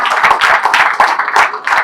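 An audience at a Krishna festival meditation gathering claps in loud, close bursts of hand slaps with short uneven gaps between them. There is no talking.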